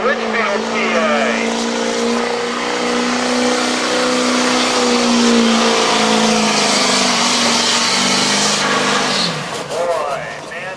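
A diesel-converted 350 Chevy engine in a truck making a racing pull at a diesel truck shootout, a loud sustained engine roar that climbs and holds in pitch before dropping off near the end, with an announcer talking over it.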